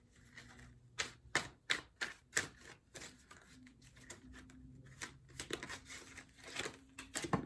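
Tarot cards spill and flick out of a deck mid-shuffle, a run of sharp papery snaps and slaps in uneven bursts, close and fairly quiet, with faint crinkling between them.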